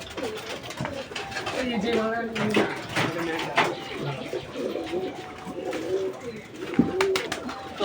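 A pigeon bought at a market coos repeatedly, its soft, rolling calls close by and overlapped by people talking throughout.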